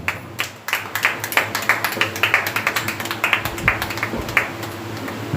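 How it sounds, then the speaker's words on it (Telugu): A church congregation claps hands during worship, a steady run of sharp, fairly close claps with a hum underneath and no talking. "దేవుని నయపరుచున్న వారు కూడా చప్పట్లు కొడతారు"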